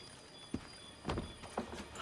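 In Assassin's Creed III, a horse's hooves clop in a few soft, irregular steps under a steady game-world ambience, fairly faint and close by.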